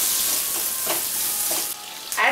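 Onions and green chili frying in oil and butter in a pan, a loud bright hiss of sizzling with a few soft stirring bumps, no voices.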